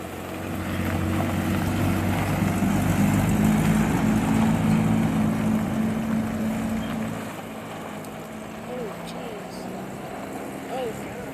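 A small stick-shift vehicle circles a yard, its engine a steady low drone that fades somewhat partway through. Voices talk over it.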